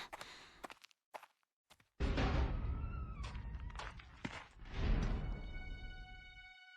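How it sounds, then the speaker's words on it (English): A door opening and then closing in the video game Shadow of Destiny, heard as a few soft knocks followed by a sustained louder rumble of movement with a fading ringing tone at the end. "that was just the door opening and closing"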